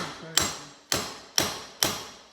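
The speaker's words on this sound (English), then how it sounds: "Hammer flat again." A hammer strikes a cheap screwdriver four times to flatten it, each blow a sharp metallic crack followed by a short ringing decay, evenly spaced about half a second apart.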